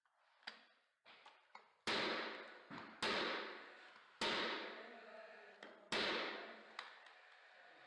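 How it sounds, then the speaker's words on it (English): A multi-angle trim cutter chopping quarter round trim for floor corners: a few light taps, then four heavy, sharp cutting thumps roughly a second apart, each ringing off briefly, fairly faint overall. "We are using the multi-angle cutter in order to cut the quarter round"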